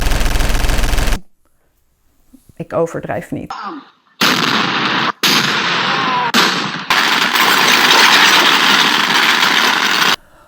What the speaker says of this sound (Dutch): het ook traditie om de hele dag keiharde vuurwerk af te steken